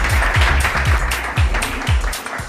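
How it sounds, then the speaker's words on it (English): Audience applause after a startup pitch at a demo day, loud close clapping with rhythmic low thumps running through it. "so a big round of applause for him."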